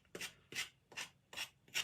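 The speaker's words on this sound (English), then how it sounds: "I've got a sanding block." A sanding block rubs along the rough edges of a small Dollar Tree wooden craft piece in five soft, evenly spaced rasping strokes, heard up close and quiet.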